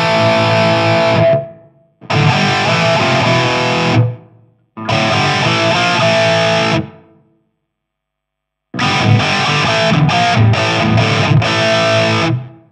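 Heavily distorted electric guitar played through a simulated AX speaker cabinet, loud and close, in several separate bursts of chords and riffs divided by short silences, with rapid choppy strums in the last phrase.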